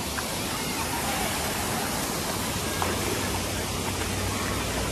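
Rutledge Falls in Tennessee pours as a steady, broad rush of falling water, a constant full-band roar with no pauses, heard from nearby on a hiking trail.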